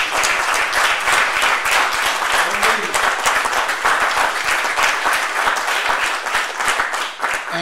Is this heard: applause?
yes